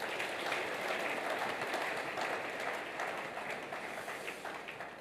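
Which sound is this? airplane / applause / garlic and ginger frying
applause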